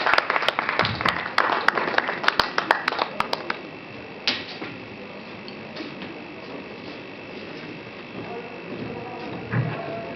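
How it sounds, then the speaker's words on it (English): Scattered hand claps from a conference audience open the stretch, sharp and uneven for a few seconds before thinning into quiet room tone with only an occasional clap. "Please, can we give him a rousing applause?"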